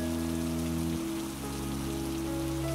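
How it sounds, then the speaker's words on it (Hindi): Heavy rain pours down and floods open farm fields, a dense, steady wash of falling water that runs unbroken through the whole stretch. "इतने में उस आदमी ने जैसा कहा था ठीक वैसा ही बारिश भर जाती है और खेत डूबने लगते हैं"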